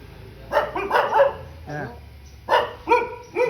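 Several dogs bark close by in repeated loud bursts, a cluster early on and another near the end, with yips and whimper-like tones between them.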